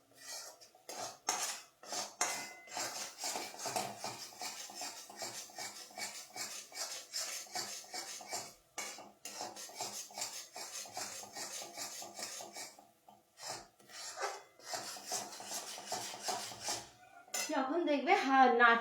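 Nolen gur sandesh being stirred in a pan, a spoon scraping and clinking against the metal in a steady, busy rhythm that runs close and fairly loud, with a brief pause near the end.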